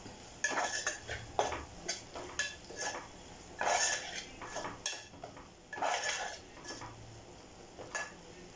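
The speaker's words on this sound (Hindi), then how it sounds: "अब इन सबको हम अच्छे से मिक्स कर लेंगे।" A spoon scrapes and clinks against a pan while spices and red chili powder are stirred together in oil, rhythmic close metallic strokes over a faint background sizzle.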